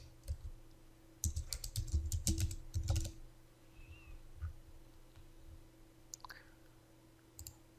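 Bursts of rapid keystrokes on a computer keyboard come in two quick runs, followed by a few scattered clicks, heard close over a steady low hum from a server room.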